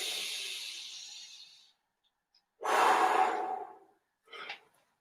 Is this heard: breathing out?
yes